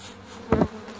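Honey bees buzz in an opened hive of an overwintered swarm, a short close burst of wingbeat hum swelling for about a fifth of a second over a faint background drone.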